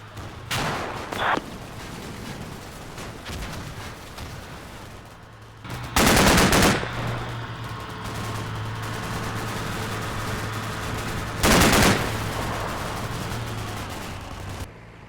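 BTR armoured vehicles fire in the Cold War strategy game Combat Mission, with short bursts of machine-gun fire at intervals, the two loudest near the middle and near the end, over a steady low engine drone.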